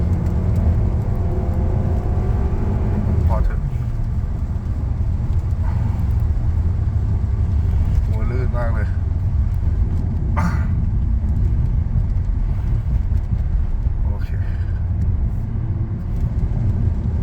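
A remapped Honda Accord G9 with a 2.4 engine, running on V-Power 95, pulls away and drives on with a steady, loud low engine rumble broken by several brief rising sweeps as it shifts.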